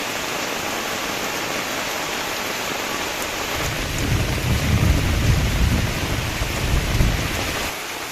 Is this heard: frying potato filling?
no